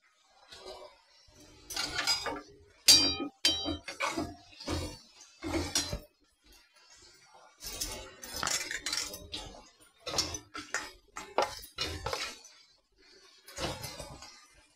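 Pieces of chicken going into a pan of spiced oil for a Bengali taro and chicken curry, heard as repeated metallic clinks and scrapes of utensils against the pan in close, irregular bursts.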